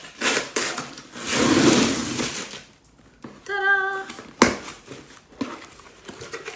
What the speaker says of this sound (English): I love the sound of tape coming off the box.